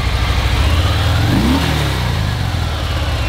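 A superbike engine revs up hard at a Chennai used car and bike dealership, a loud, close roar that rises sharply and then falls back to a rough idle.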